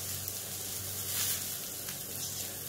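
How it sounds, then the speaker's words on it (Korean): Soft, steady sizzling of pork cooking on a hot grill, quiet and continuous. "지글지글 소리가 굉장히 좋아."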